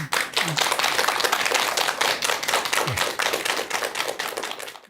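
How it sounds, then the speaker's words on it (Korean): A lecture audience claps steadily and loudly, a dense run of hand claps filling the room without pause. "여러분 큰 박수 부탁드립니다"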